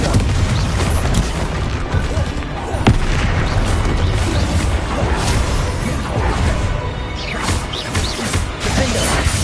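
The Confringo blast spell in Hogwarts Legacy, with loud rumbling explosions and crashes piling up in steady combat noise and one sharp crack.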